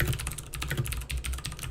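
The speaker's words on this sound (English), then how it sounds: "You know, the mechanical keyboard, the clicking though, it's so esports, man." Rapid, clattering keystrokes on a mechanical keyboard at a Guild Wars 2 esports tournament match, a dense irregular run of close clicks with no speech.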